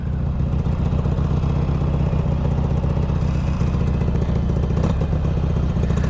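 A Harley-Davidson 883 Sportster motorcycle is ridden, its engine giving a constant, close, clattering mid-pitched drone with a faint rhythmic pulse and no break throughout.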